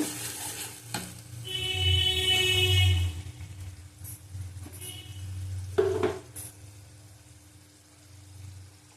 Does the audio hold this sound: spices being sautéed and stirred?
yes